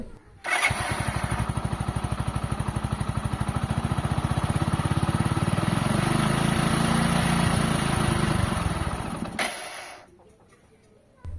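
Motorcycle engine with a jerking accelerator fault starts and runs for about nine seconds, a steady close putter with rhythmic, uneven pulsing and rising revs, then cuts off abruptly.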